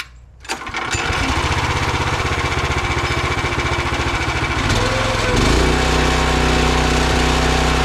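Small four-stroke engine on a towable backhoe cranks and catches, then runs steadily at a loud, buzzy idle close by, rising slightly in pitch near the end.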